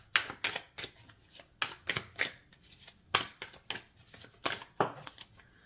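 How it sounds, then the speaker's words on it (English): Tarot cards being shuffled by hand, a run of quick riffling bursts, each a short crisp flutter of card edges, repeated in an uneven rhythm at close range, with no talking. "Let me shuffle and see what comes out of these."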